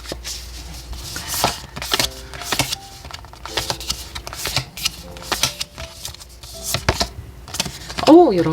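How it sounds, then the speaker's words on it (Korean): Tarot cards are shuffled and drawn, producing a series of sharp riffling snaps and flicks in irregular bursts, close and crisp, with a brief voice at the very end. "자, 키카드 2장 뽑아보도록 할게요."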